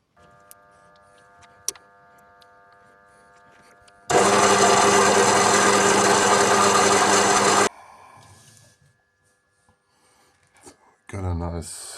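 A Parkside PPBSSA 12 A1 cordless drill bores into a metal part in one loud, steady burst lasting a few seconds, preceded and followed by quiet handling clicks and a short final whir.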